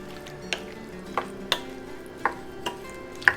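A spoon stirs fruit salad in a bowl with soft, irregular clinks and wet scrapes about once every half second, close and fairly quiet, with no voices.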